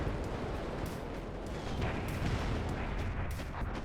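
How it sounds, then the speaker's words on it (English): Grenade launchers firing in the real-time strategy game WARNO, a dense, rumbling barrage of overlapping booms and blasts that holds steady at moderate loudness with no talk over it. "Grenade launchers firing at those Jaeger Aufkel."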